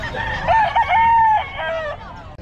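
A rooster at a pet market gives one loud, close crow with a rising start, a long sustained middle and a falling end, over a bed of market background noise.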